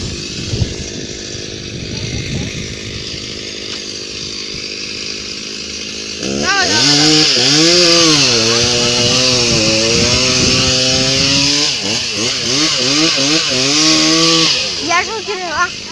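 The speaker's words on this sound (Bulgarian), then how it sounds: "Резачката се върта." Chainsaw revving loudly and steadily at close range, its pitch rising and falling as the engine is throttled, with speech in the background before it starts.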